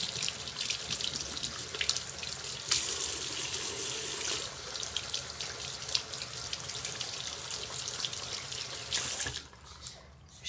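A makeup brush is rinsed under a running tap, water splashing steadily into a sink with shifting gurgles before the flow cuts off near the end.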